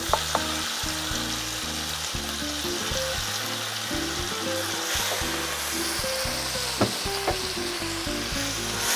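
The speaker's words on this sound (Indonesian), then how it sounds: "Ditumis sampai sambal terasinya ini matang ya teman semua" Ground shrimp-paste chili sambal terasi is sautéed in a pan for nasi goreng with pete beans, cooking in its own oil. A steady, dense sizzle runs throughout, broken by scraping and stirring knocks, with no voices.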